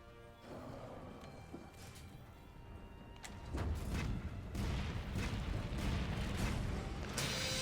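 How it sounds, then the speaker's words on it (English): A large explosion in Monster Hunter World during the Arch-Tempered Kulve Taroth fight, a loud booming burst that swells after a few seconds and rumbles on with crashing debris over game sounds. "Whoa, the big explosion!"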